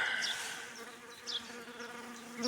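A faint, steady buzz of bees hovering around overturned beehives, with occasional individual insects zipping past closer by.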